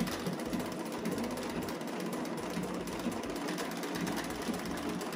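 A sewing machine stitching a decorative triple stitch on fabric scraps, its needle running in a fast, steady mechanical whir throughout, fairly close.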